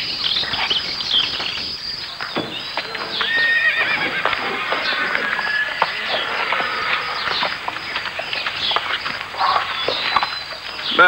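A horse neighs and its hooves clip-clop over a steady outdoor backdrop of chirping insects, with a faint voice now and then, in a 1995 French television film.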